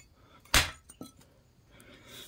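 An old pot struck with a pickaxe gives one loud, sharp crash of breaking ceramic, followed by a softer knock and faint rattling debris.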